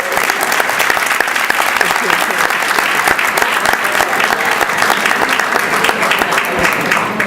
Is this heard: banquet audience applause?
yes